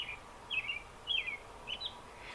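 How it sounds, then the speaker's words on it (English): A cardinal sings in a backyard, four short, clear whistled phrases repeating at steady intervals, moderately distant over a faint, steady background hiss. "I think that's a cardinal."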